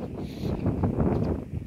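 Wind blows through a coastal dune landscape on a cool day, a close, buffeting rush with gusty swells and rumbling microphone noise, heard alone without any voices.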